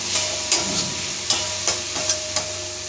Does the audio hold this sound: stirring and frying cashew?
yes